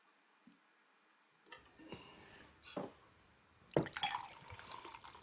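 A drink is poured into a glass: faint drips and clicks at first, then a trickling pour with clinks, swelling into a brighter splash near the end. Quiet and close, with no speech.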